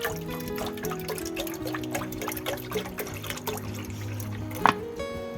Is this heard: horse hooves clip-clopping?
no